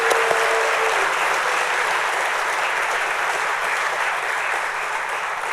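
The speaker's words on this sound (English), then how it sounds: "Round of applause." Loud, sustained applause from a crowd at a police badge pinning ceremony for new Edinburg Police Department officers, steady for the full stretch with no talk over it.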